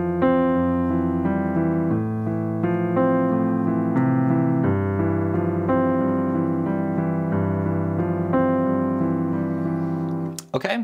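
A piano plays the B-section accompaniment of a song, the pre-chorus and chorus pattern, with steady repeating right-hand figures over changing bass notes, close and clean, ending in a brief clatter.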